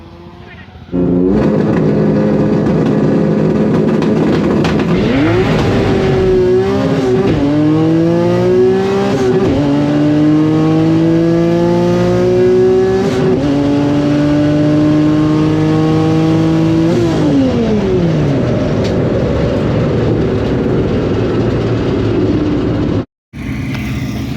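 A race car launching at full throttle at a test session, the engine roaring loud and close and climbing through several gear changes in rising, stepped sweeps before backing off and cutting out near the end; voices shout under the noise.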